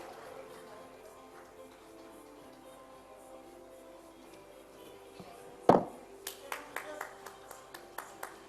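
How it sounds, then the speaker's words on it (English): Applause for panelists at the Dakshin Healthcare Summit 2024, arriving after low murmuring talk as a sharp burst followed by a handful of scattered, spaced claps from a small audience. "Please do give all the panelists and Chetna a huge round of applause."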